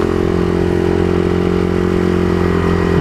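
Loud, steady motorcycle exhaust idling close by, a deep continuous rumble with a constant mechanical drone throughout and no change in pace, no talking.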